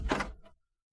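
A door opens at night with a single short, close thud and scrape, followed by a faint knock, then silence.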